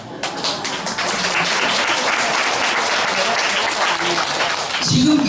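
A lecture audience gives steady, full applause, dense and sustained for about five seconds and swelling slightly toward the end.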